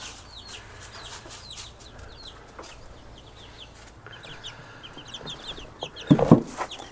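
Baby chicks in a brooder box peep and cheep in quick, high overlapping chirps, close and lively, with scratching and rustling of bedding and a louder bump near the end.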